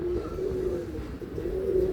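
Pigeons kept for sale coo in low, droning calls, one rolling coo followed by another, close and fairly loud against a steady background hum.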